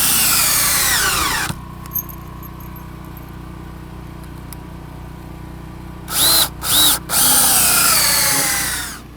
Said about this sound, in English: I'm going to put some screw fasteners here, which hopefully will countersink themselves below the surface